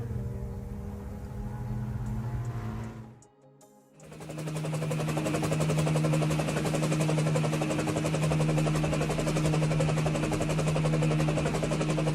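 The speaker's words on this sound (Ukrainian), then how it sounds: "Гвинтокрил" A helicopter's steady rotor and engine drone with a strong low hum, briefly cut off near the start and then continuing loud and constant to the end.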